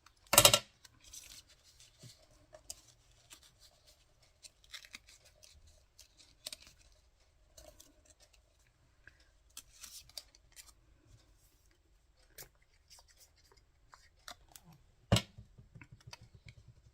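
Scissors trimming the bottom off a fussy-cut paper card element, a few quiet sparse snips and clicks in a near, otherwise still room.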